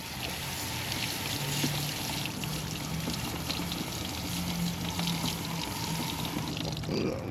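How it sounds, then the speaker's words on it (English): Water pours and trickles steadily while parts of a ditch pickle are rinsed during maintenance, a continuous close splashing stream with no talk over it. "Rinse, rinse, rinse."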